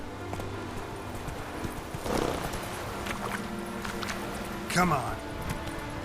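Roach, a horse in The Witcher 3: Wild Hunt, gallops with steady clip-clop hoofbeats over game ambience, a rider's voice briefly urging it on and a short whinny-like burst near the end.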